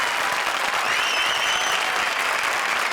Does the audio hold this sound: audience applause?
yes